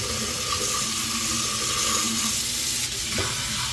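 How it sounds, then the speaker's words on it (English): Hot water running hard from a kitchen sink tap, a steady loud rushing splash close by that continues throughout without a break, no voices. "So right now I have turned the hot water on and it has to go for 5 minutes."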